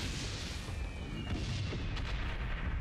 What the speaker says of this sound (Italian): Oh, questo sì che è un cannone. Questa è una contraerea